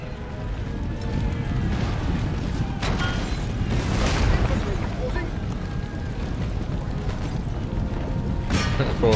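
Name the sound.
cannon fire in Empire: Total War video game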